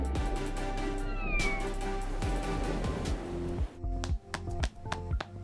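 Close, drawn-out meowing from a cat over a dense, busy background, with several sharp clicks and breaks toward the end.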